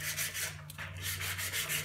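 Rhythmic back-and-forth scraping of sandpaper rubbing on wood, close and steady, with a brief pause midway and a low hum underneath.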